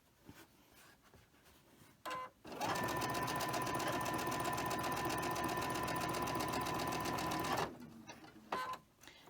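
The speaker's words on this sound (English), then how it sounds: "I'm just sewing away here and forgot to put the camera on." Sewing machine stitching quilt fabric, a steady rapid mechanical chatter lasting about five seconds, close and clear, with brief quiet handling sounds before and after.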